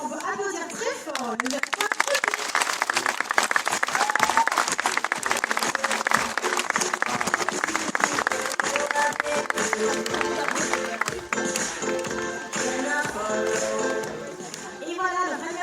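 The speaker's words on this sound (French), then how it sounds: "je pense qu'on peut applaudir très fort" An audience at a sea lion show at La Flèche zoo applauds in a long, dense round of clapping that keeps steady for many seconds before easing slightly.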